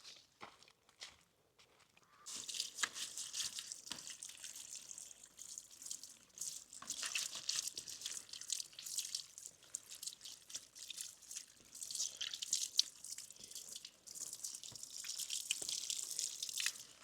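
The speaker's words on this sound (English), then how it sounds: "Let's go and wash the veggies." Vegetables being rinsed under steady running water at an African village farm, a continuous bright splashing hiss starting after a couple of seconds of near quiet and continuing with small drips and knocks, without talk.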